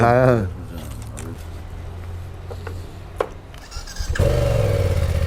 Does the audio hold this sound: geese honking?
no